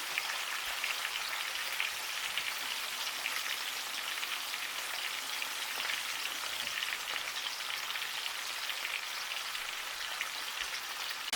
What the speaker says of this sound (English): Alright, we got bacon sizzling.